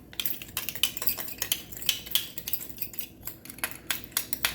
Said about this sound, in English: All right, now I'm going to mix this together.